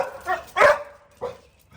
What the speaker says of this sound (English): Sorry for the loud barking.